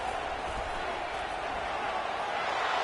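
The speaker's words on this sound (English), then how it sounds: "this crowd is deafening" A loud stadium crowd roars at a football game during a two-point conversion attempt, a continuous dense wall of cheering that holds steady throughout.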